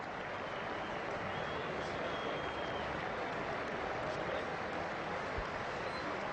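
Cricket crowd applauding steadily after South Africa are bowled out by Australia in a 2002 Test match, a broad continuous wash of clapping from a large stadium audience.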